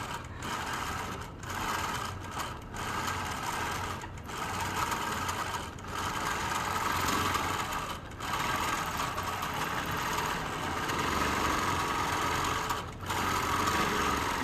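A sewing machine stitching dense free-motion quilting runs in a fast steady mechanical rattle for long stretches, close and continuous, with a few brief stops and restarts.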